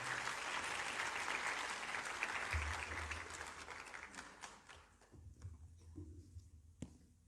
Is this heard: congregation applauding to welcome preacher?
yes